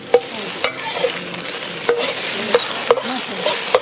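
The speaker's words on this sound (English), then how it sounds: "use the wok spatula to turn it, so that would make it cook faster" Scrambled egg stir-fried in a wok and turned with a wok spatula, making a steady sizzle with sharp metallic scrapes and clacks at irregular intervals, close and fairly loud, with no talk.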